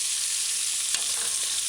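Beef chunks fry in a pot for a brown stew with broad beans, giving a steady, close hiss of sizzling fat with a soft clink of stirring partway through.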